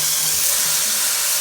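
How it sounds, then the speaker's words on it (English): Beef pot roast sears in a hot pan, giving a steady, close hiss and sizzle that holds evenly throughout with no voices. "Let's see if we get that sizzle."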